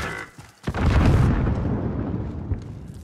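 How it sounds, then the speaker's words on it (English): Cluster airstrike explosions in Call of Duty Warzone: a brief lull, then a loud booming blast with a long rumbling tail and smaller follow-up bursts, close and heavy. "I called the cluster in. I called my airstrike, Mini. I called my cluster in."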